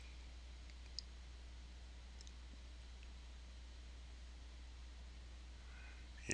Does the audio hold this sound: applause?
no